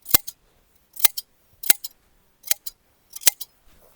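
Hand scissors shear wool from a sheep in close, crisp bursts of snipping, two or three quick cuts in each group, with short pauses of near silence between the groups.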